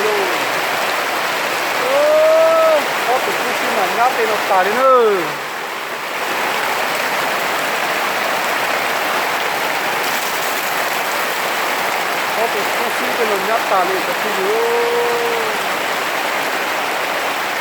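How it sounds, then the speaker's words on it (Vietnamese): Heavy rain pours down in a steady loud roar, while someone talks intermittently over it. "xã hội luôn đang mưa to như thế này đây"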